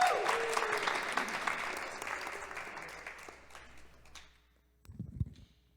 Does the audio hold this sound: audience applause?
yes